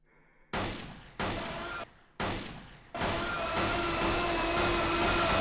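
Gunfire from the video game Floors Have Teeth: a few sharp, loud bursts of shots separated by brief silences, then continuous rapid firing with pulsing repeats, close and dominant.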